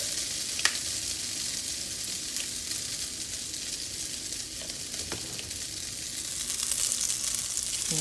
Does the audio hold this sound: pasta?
yes